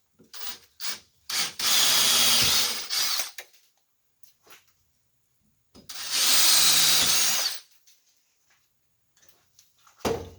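Two separate bursts of a power drill boring 3/8 inch holes at center-punched marks, each lasting over a second, with scattered knocks and scraping in the quiet gaps between.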